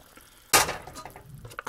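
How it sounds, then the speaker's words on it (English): Dry Maison de Corée Ramen Poulet Feu instant noodles are dumped into a pot of boiling water: a single sudden clattering splash, then a soft fading bubble. "I've got boiling water already."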